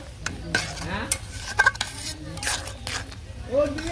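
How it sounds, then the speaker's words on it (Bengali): A spoon stirs ginger paste into shukto, a Bengali vegetable curry, in a pan, soft scraping and wet squishing with faint sizzling close by, with a few sharp utensil clinks. "আদা বাটা এখন মিশিয়ে নেই"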